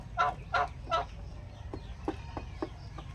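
Pet turkeys gobbling in their pen, three loud rippling gobbles close by followed by several shorter, softer clucks and calls over a low hum.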